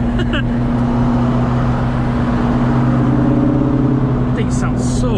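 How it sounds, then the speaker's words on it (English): The exhaust of a Ford Mustang S550 drones loud and steady with a deep, low rumble as the car accelerates, and voices talk over it. "For not it being a typical Borla or Flowmaster, it's got such a nice exhaust, and it's not super, super crazy loud too."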